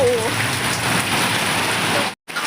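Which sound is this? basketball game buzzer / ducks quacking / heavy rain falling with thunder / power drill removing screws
heavy rain falling with thunder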